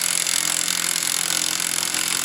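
A power tool buzzes steadily and harshly on the axle nut of a VW Mk4 during a wheel bearing change, close and loud for a couple of seconds with no speech.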